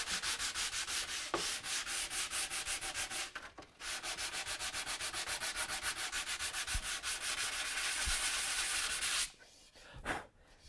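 A cedar wooden sword is hand sanded with rapid, even back-and-forth strokes, giving a loud, steady scratchy rhythm that pauses briefly partway through and ends with a few scattered scrapes.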